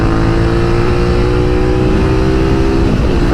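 A 2019 Suzuki V-Strom 650 touring motorcycle engine pulls hard under acceleration, a loud, steady close-up drone with rising pitch, dipping as the revs change near the end.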